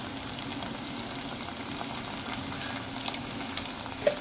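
Golden onions fry steadily in a pan while ginger paste is stirred through, a continuous moderate sizzle with small crackles and one brief scrape near the end.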